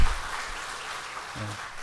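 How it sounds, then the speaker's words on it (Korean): A church congregation at a Sunday service claps to welcome a soldier home on leave, a soft, steady wash of many hands heard from a distance, with a brief low voice near the end. "우리 박수로 좀 환영해 주시면, 격려해 주시면 좋겠습니다"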